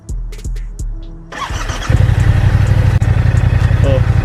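A motorcycle, a Yamaha R7 or BMW F 850 GS, is cranked and fires up after a few starter clicks, settling into a loud, close, rapid idling rumble; a voice is briefly heard early on.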